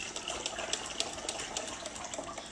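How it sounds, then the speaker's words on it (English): Milk pours into a baked oatmeal mixture of eggs, butter, maple syrup and agave, giving a steady splashing trickle of liquid at moderate loudness for the whole clip. "And then I'm gonna pour my milk."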